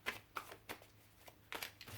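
Tarot cards are handled and shuffled up close, giving a run of soft, quick riffling flicks and slaps in irregular bursts at low volume, without speech.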